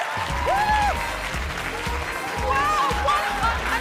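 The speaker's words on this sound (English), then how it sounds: "I reckon let's have a round of applause for these lovely chaps." A studio audience on a dating show applauds in a dense, steady clatter of clapping with some cheering. A voice talks loudly over it the whole time.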